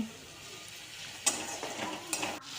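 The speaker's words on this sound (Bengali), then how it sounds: "টমেটো, আলু, পেঁয়াজ, মটরশুঁটি সবগুলো মশলা কষিয়ে নিচ্ছি" Tomato, potato, onion and peas sauté with spices in a pan, a faint low sizzle broken by two brief, sharper scraping stirs.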